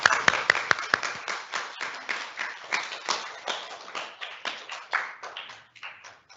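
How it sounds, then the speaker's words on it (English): Audience applause for grade 1 teachers at a school induction programme, a steady round of many hands clapping with sharp individual claps standing out early, holding for several seconds before thinning at the end. "Let's give them all a big clap."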